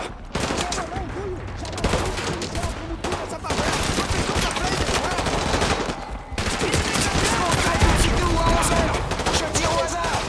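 Dense automatic gunfire in the Call of Duty 3 video game, rapid overlapping bursts forming a near-continuous loud barrage with brief pauses, heavy and close, with some voice activity mixed in.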